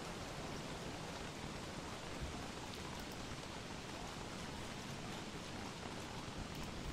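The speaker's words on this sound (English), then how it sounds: "And we will not let this rain stand in our way." Rain falls in the video game Don't Starve: Reign of Giants, a steady dense hiss of downpour, even and continuous, heard alone.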